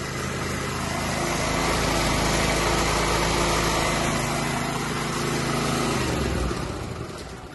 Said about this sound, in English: There's it now on full speed, and our generator is generating electricity.